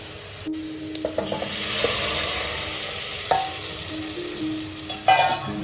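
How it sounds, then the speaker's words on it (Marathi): Curd being added to a hot tempering in a pan for Maharashtrian dahi kadhi, giving a steady soft sizzle with a few clinks and stirring scrapes, fairly close and alone. "आता याच्यात दह्याचा तडका टाकणार दही टाकणार आहोत"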